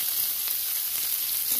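Onion sizzles in hot mustard oil in a pan, a dense close hiss that stays steady throughout with no voices.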